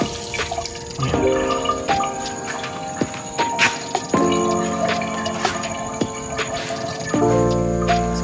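Water runs from a tap in a campsite restroom on a mountainside in Tanay, Rizal. A steady splashing stream plays close by, with drips, clunks and faint background tones around it.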